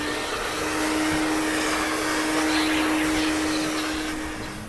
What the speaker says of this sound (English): I'm vacuuming off the walls and the ceiling just to be sure there's no dust and debris that's going to sprinkle down on my fresh paint